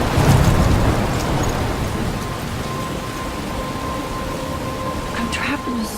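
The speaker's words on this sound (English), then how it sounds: "I'm trapped in a storm?" A thunderstorm with heavy rain in the video game Life is Strange, a dense, steady hiss of rainfall with low rumbling thunder, loud and continuous, with a brief sharper crackle near the end.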